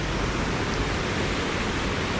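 Large volumes of water pouring out of Mammoth Spring in Arkansas, heard from a bridge as a loud, dense, continuous rushing roar with no voices.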